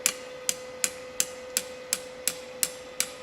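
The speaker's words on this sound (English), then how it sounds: "Hold that against your thigh and hammer straight." A steel fire pit poker is hammered straight on a blacksmith's anvil, nine sharp, evenly spaced metallic strikes ringing out at a steady rhythm over a constant background hum.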